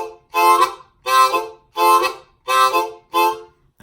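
Blues harmonica playing a rhythm on the 1 chord, five evenly spaced breathy chordal bursts, close and loud, no talk.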